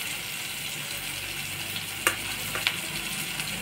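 Turmeric, chili powder and onion-garlic masala sautéing in a pan for a black flat bean curry, giving a soft steady sizzle with a couple of faint stirring clicks, quiet and close, no voices.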